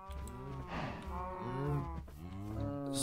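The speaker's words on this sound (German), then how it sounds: "die Kühe haben sich mal wieder vermehrt" Cows mooing in the video game Life in the Woods, drawn-out low bovine calls following one another, moderately near and fairly faint.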